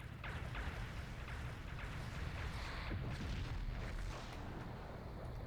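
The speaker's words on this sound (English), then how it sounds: "It's firing quantum torpedoes at it." In the space game Star Trek Legacy, a starbase fires quantum torpedoes, and a dense, rumbling wash of explosions and booms rolls on continuously at steady loudness.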